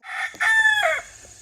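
A nearby rooster crows, a short, loud, harmonic call in two stretched parts, with no talking.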